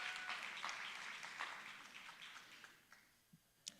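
A faint, distant audience at a city's State of the City event gives brief applause, a soft wash of clapping that quickly dies away into a few scattered late claps.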